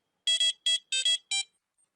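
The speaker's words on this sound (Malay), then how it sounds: "Saya tekan button reset. Dia ada bunyi tu dulu. Bunyi intro dia tu." An electronic microcontroller board plays its short beeping intro right after the reset button is pressed: six sharp, clean, high-pitched beeps in quick succession, close and alone against silence.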